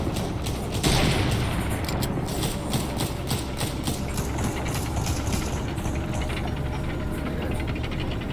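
Rapid gunfire crackles through a video game battle, a dense continuous fusillade over a low rumbling engine-like background, moderately loud and with no voices.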